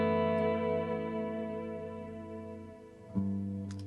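Electric guitar reamped through a Fractal Axe-FX III with delay added, sustained chords ringing with audible echo repeats, a fresh strum near the end, played alone without talk.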